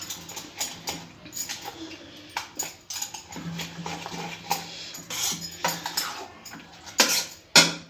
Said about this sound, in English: Now add some black pepper and mix it.